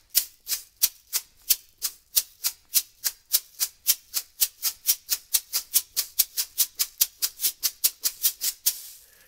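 A shaker plays a steady groove with the first note pushed forward, giving a crisp, close, rapid series of evenly pulsing strokes with accents, heard alone.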